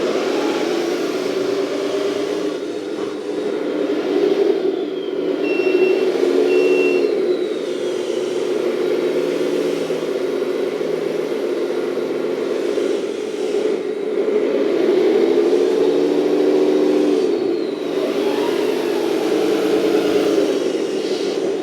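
The motor of an RC 8x8 roll-on/roll-off hydraulic dumper truck with a 3-speed gearbox and diff lock runs steadily up close. Its whining hum rises and falls slightly as it keeps going, with no talk.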